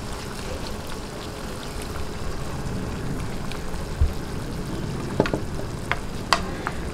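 Ground pork or beef for picadillo frying in a pan after soy sauce and water go in, a steady wet sizzle and bubbling with a few faint stirring clinks, heard up close with no talking.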